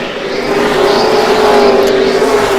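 NASCAR stock cars roar around the Richmond track in a loud, sustained engine drone, a steady high-revving whine holding close and strong throughout.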